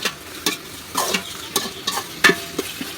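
Tomatoes stirred into a frying base for chicken biryani: close, steady sizzling under a series of quick spoon scrapes and knocks against the pot, repeating roughly every half second.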